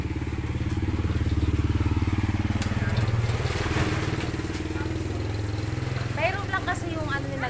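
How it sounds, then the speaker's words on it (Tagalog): A motorcycle engine rumbles loudly nearby, building then fading as it moves past, with people talking faintly toward the end. "Madadaan ang motor."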